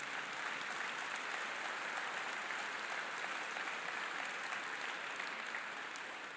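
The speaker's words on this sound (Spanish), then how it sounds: "Denle un aplauso al Señor." Church congregation applauding, dense steady clapping from many hands sustained evenly for several seconds, no talk over it.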